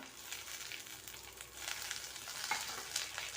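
Chopped onion frying lightly in a pan for chowmein, a soft steady sizzle with faint stirring scrapes, close and moderately quiet, no voices.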